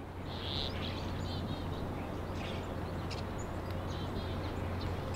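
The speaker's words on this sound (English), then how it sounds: "There's chickadees in the bush." Chickadees call from a snow-covered bush in winter, with faint high chirps and short tweets scattered over a steady low background hum.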